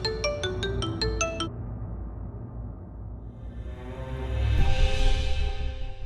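A phone ringtone plays a quick run of bright repeated electronic tones for about a second and a half, then cuts off, leaving soft room noise.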